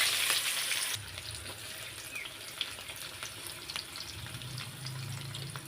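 Chopped onion added to hot oil with black cumin in a wok sizzles steadily and quietly at close range, after a brief brighter burst at the start, with occasional soft scrapes and no talking.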